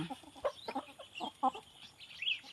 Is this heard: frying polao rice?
no